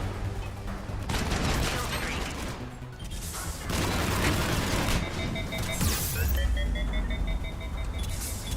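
Dense, sustained gunfire in the Mass Effect Legendary Edition game, a loud continuous fusillade of shots and impacts with crashing bursts and a rising whine near the end, with no voices over it.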